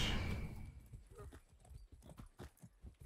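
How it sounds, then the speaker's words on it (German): Hooves of a horse clip-clop in the video game Far Cry 6, a rhythmic run of close hoofbeats that follows a louder burst at the start and carries on at a steady trotting pace. "Springen wir mal hier aufs Pferd."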